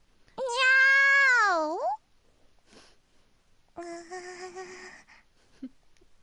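A Nekopara catgirl gives a long, drawn-out meow that bends downward at the end, and after a short pause a second, shorter mewing call follows. Both are close and clear against near silence.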